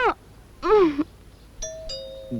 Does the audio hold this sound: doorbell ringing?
yes